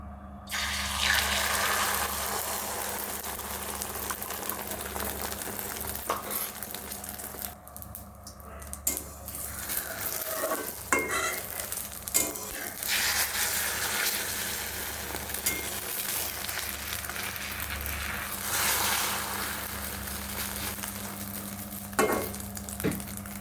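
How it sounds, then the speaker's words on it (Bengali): Two eggs frying together in hot oil in a wok, a steady close sizzle with occasional scraping and stirring strokes and brief clatters, running on without speech. "এর মধ্যে আমি তেল ঢেলে দেবো যেহেতু আমি ডিম ভাজবো বলে তাই দুটো ডিম একসাথে আমি ভেজে নেব"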